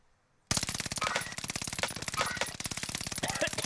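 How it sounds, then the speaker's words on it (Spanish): Rapid automatic gunfire in Call of Duty: Warzone bursts in abruptly after a moment of near silence, then continues as a fast, even stream of shots with a few brighter clinks mixed in. "¿Disparos ahí?"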